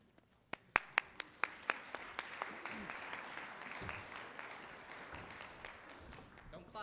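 At a university research symposium, a few isolated sharp claps ring out first, then an audience breaks into steady, moderately distant applause that continues evenly to the end, with faint talking underneath.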